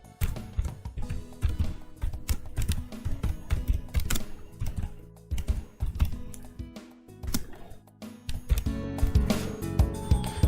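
Fingers type on a computer keyboard in bursts of quick, close, clicky keystrokes with brief pauses between runs, recorded near the desk while entering a company name in CorelDraw.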